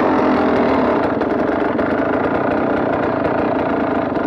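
A KTM 300 two-stroke enduro motorcycle idles close by, its loud, steady engine burble holding an even rhythm with faint ticking on top and no talk.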